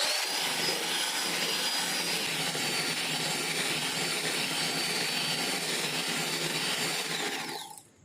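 Electric blender whirring steadily as a quarter cup of oil is mixed into Black Forest cake batter, a loud continuous motor drone that holds for about eight seconds before cutting off at the end.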